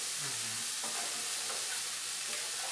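Onions sautéing in a pan for lasagna, a steady broadband hiss and sizzle with a few faint stirring scrapes, close and even throughout.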